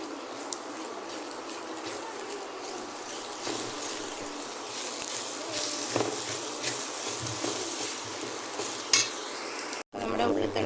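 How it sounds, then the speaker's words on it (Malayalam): Onion stalk and egg thoran stirred in a hot pan, a continuous close sizzle punctuated by scraping and clinking of the spoon against the metal, with a brief sharp clank and pause near the end. "നമുക്കിതൊന്ന് ഇളക്കി കൊടുക്കാം."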